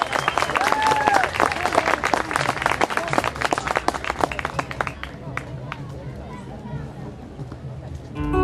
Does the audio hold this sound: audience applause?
yes